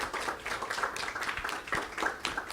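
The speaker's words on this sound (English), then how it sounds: "Let's stand and give her a round of applause." Applause from a standing church congregation fills the space with steady, dense clapping at moderate distance, a continuous wash of many hands with no talk over it.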